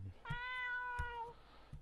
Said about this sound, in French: Le bruit de chat.